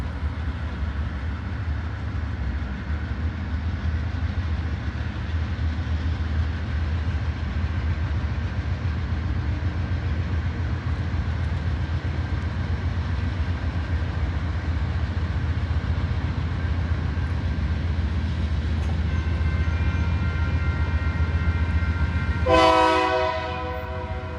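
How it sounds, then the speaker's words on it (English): Freight train rolling steadily past under a dock in Kansas City's historic West Bottoms, a continuous heavy rumble of wagons throughout, then a loud horn blast near the end, close by. "we're gonna get to see another train."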